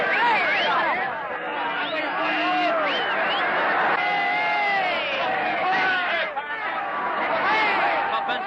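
A large crowd celebrating the end of Prohibition cheers and chatters loudly, with whoops and shouts rising over a dense babble of excited voices.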